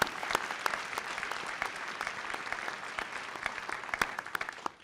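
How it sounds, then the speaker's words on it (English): Audience applause at a City Club county budget address held in a library venue in Parma, steady dense clapping with sharp individual claps standing out, sustained for several seconds before tapering off at the end. "Could we get a round of applause for the Cuyahoga County Library?"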